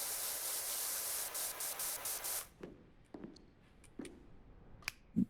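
A pressure washer in PowerWash Simulator 2 hisses as a loud, continuous broadband spray for about two and a half seconds, then cuts off, leaving a few short, sharp clicks and taps.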